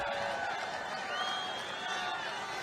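A large political rally crowd chants USA, a loud, dense wash of many voices with a rhythmic rise and fall, heard at a distance throughout.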